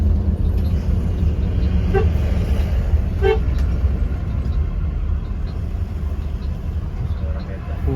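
Traffic jam with car horns honking on a congested road, two or three short horn toots over a constant low rumble of engines and traffic noise.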